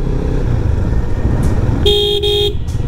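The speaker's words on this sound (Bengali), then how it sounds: "সো ডাবল হর্ন ইনস্টল করাই লাগে" A GPX Demon 250cc motorcycle's double horn blares twice in quick succession, both bursts loud and close, above steady engine and traffic rumble, with a faint extra toot after.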